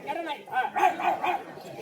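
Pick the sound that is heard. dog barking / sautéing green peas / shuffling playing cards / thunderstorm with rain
dog barking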